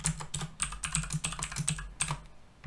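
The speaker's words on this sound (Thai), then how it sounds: "ตอนนี้เราสามารถที่จะพิมพ์ชื่อเข้าไปได้ที่ตำแหน่งนี้" Steady typing on a computer keyboard while working in Microsoft Word, a close, quick run of soft keystroke clicks with a low hum underneath and no speech.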